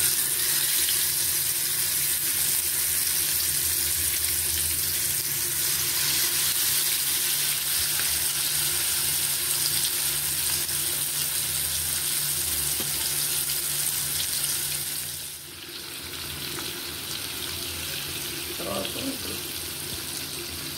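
Marinated fish pieces frying in oil, a steady broadband sizzle that holds loud and even for most of the stretch, dipping slightly near the end with a few faint clicks.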